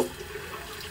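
Water running from a tap while hands are washed with bar soap, a steady soft rush of flowing water at sink level, brief and unaccompanied by talk.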